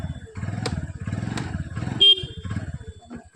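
A motorcycle engine starts up and idles with a low, pulsing rumble, briefly cut by a short horn-like beep.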